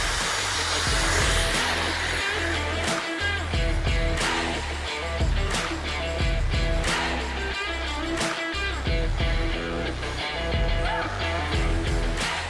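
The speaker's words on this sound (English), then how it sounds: "I use my blow dryer, medium heat, medium pressure" A blow dryer on medium heat and medium pressure drying a man's hair during a classic haircut, a loud, steady close whir with periodic brief dips and bumps as the airflow shifts.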